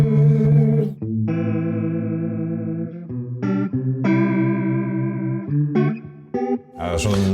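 Electric guitar chords run through a Tone City effect pedal set to heavy detune, giving a wavering, underwater chorus shimmer; phrases ring out and stop in a loose rhythm with no talking.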